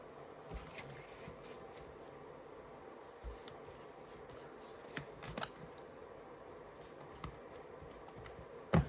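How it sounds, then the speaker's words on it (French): Tarot or oracle cards being shuffled and laid out on a table, with soft papery rustles and a few light slaps of cards, quiet and close, ending in a louder tap. "je vais rajouter des cartes"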